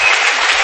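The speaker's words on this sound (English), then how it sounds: "Nate White up with a good hand from the crowd from both sides here" A crowd at a high school boys' basketball game applauds, a dense, loud burst of clapping filling the whole short moment close up, without talking.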